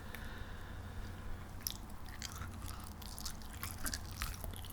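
Hot and spicy chicken wings being bitten and chewed close to the mic, with a run of soft wet crunches and squishy bites over a steady low background hum.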